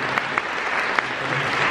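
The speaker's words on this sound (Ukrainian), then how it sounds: "І ваші оплески." Audience applause at a charity concert honouring librarians in Ukraine: a steady, dense wash of clapping throughout, with a few sharper individual claps standing out.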